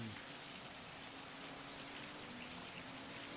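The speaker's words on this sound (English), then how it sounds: "it's raining this time around like it rained last time around" Steady, dense rain hiss fills a touring-car race in a sim racing league video game, an even wash of noise with no voices over it.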